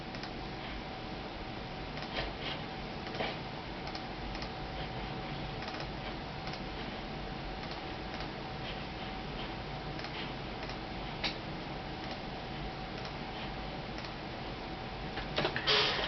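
A Zebra LP2844 label printer runs quietly, making faint repeated ticks and soft clicks over a low hum, with a slightly louder burst of mechanical activity at the very end.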